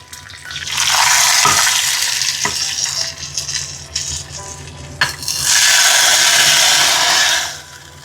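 A simple spice tempering for gooseberry tambuli sizzles loudly in hot oil in two bursts, with a quieter stretch of stirring and utensil taps between them; no one speaks.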